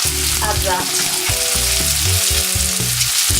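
Garlic, onion and peppers fry together in a pan for an Italian tomato soup, a loud, steady sizzle running the whole time with tonal background music, and a brief spoken voice near the start.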